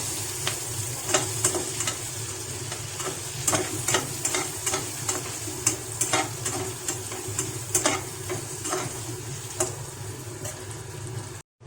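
Green chillies and curry leaves fry in hot oil with a dense, continuous sizzle and crackle. Frequent sharp spatters and stirring clicks run throughout, close and fairly loud, then cut off abruptly at the end.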